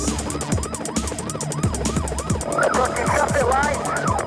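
A police car siren rises and falls in quick repeated wails during a road chase, with engine and traffic noise beneath it.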